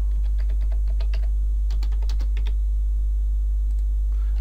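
Someone types a username and password on a computer keyboard: quick, irregular keystrokes close to the microphone over a steady low electrical hum.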